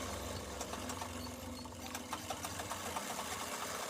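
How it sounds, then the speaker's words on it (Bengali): A sewing machine runs a lock stitch seam on a pair of half pants, giving a steady, close, continuous mechanical whir with a slight rhythmic knock throughout. "এই যে লগের সেলাই মেরে দিচ্ছি।"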